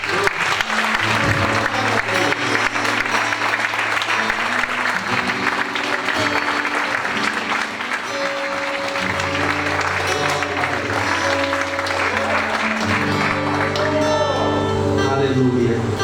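A church congregation applauding during a worship service, the clapping running under loud music with sustained tones and a voice heard throughout.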